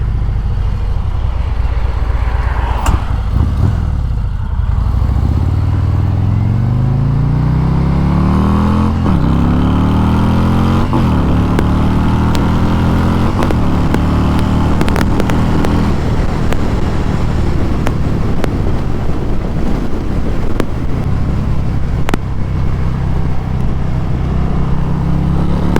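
Harley-Davidson Road King Special, 2024, with a Stage 3 Screamin Eagle engine, revving hard: loud, deep rumbling exhaust rising and falling through repeated throttle blips and sustained climbs, close and dominant with no talk.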